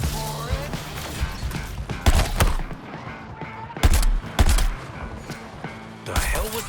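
Gunfire in the video game Suicide Squad Kill the Justice League on PS5 or Xbox Series X, with loud repeated bursts of shots and heavy thuds over a busy game soundscape, mixed with in-game voices.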